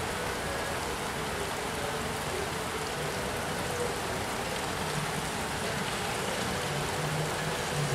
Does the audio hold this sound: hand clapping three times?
no